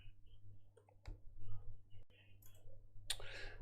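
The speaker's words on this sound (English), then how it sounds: "so I'll just type 40, 40." Numbers are typed on a computer keyboard: a few faint, light key clicks sound over a low background hum.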